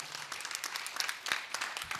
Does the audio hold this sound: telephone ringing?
no